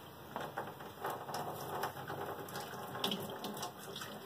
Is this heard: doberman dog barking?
no